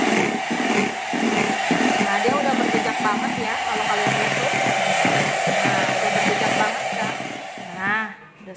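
An electric mixer whirs steadily through steamed chocolate cake batter, a continuous whining motor drone that winds down at the end, with a voice speaking over it.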